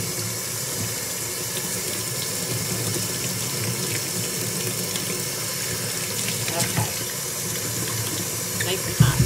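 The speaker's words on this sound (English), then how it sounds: "So I'm gonna let the hot water run." Hot water runs steadily from an indoor tap near a nearby water heater, a continuous close hiss and splash for about nine seconds, with a clatter near the end and a person talking under it.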